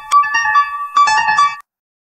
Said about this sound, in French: Désolé, hein, c'est téléphone.